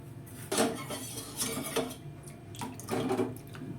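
A beetroot and carrot vegetable chop mixture is worked together with biscuit crumbs and spices in a bowl, giving repeated utensil clinks and wet stirring scrapes at a moderate, steady pace.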